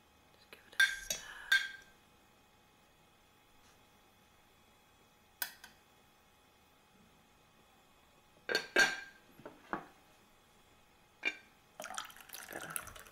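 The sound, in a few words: stirring tea in a cup with a spoon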